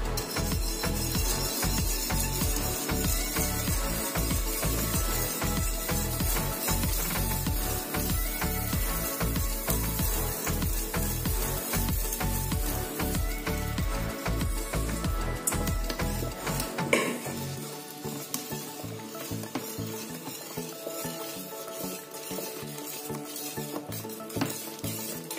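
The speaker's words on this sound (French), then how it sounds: "On doit bien tourner rapidement pour que ça ne forme pas de boule là-dedans." Tapioca being stirred rapidly with a spatula in a pot of boiling water, a continuous fast rhythmic scraping and clinking against the pot that slows and softens near the end, close up and with no talking.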